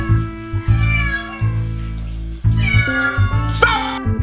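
Several cats meow loudly and almost nonstop during a bath in a tub, their cries overlapping and wavering, with faint splashing of water in the background.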